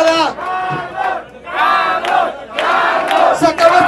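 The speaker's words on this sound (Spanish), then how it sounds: "Aplausos para" A party crowd at a birthday awards ceremony cheering and shouting in loud bursts, several swelling waves of voices close by.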